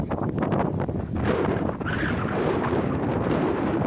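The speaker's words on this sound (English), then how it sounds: "it's so windy." Strong wind buffets the microphone in a constant, roaring rush with gusty swells, loud and close throughout.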